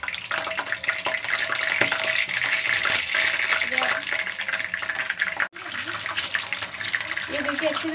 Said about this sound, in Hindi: ये देखिए मैंने 8 अंडे लिए हैं बॉईल करके, इसको फ्राई कर लेंगे